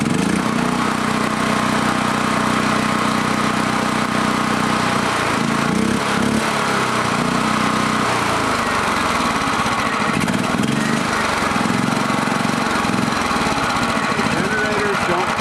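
A dual fuel generator engine after a carburetor swap runs loudly and steadily at close range, a rough buzzing drone with uneven rhythm, and a voice speaks briefly over it.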